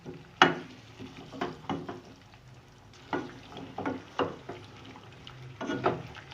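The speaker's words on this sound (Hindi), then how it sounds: "और इसे डालकर मैं बहुत अच्छी तरह पहले मिक्स करूँगी और फिर मैं मसाले में मिक्स कर कर भून लूँगी इसको" Chicken being stirred and fried in masala for an aloo chicken curry, with soft sizzling under intermittent scraping and clinking of a spoon against the pan, quiet and close.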